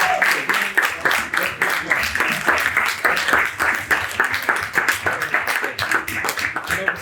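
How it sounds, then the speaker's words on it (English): An audience at a graduation ceremony for 8 to 12 year old boys claps in a sustained, lively round of applause, dense and close, with a few voices mixed in. "We want to give you a round of applause first"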